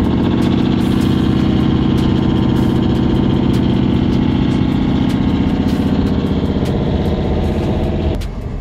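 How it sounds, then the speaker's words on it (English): A truck engine idles close by with a rough, sputtering low rumble, steady and loud for most of the stretch before dropping off near the end. "I'm next to the truck that sounds like it's farting"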